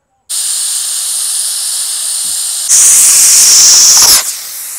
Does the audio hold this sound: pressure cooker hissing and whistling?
yes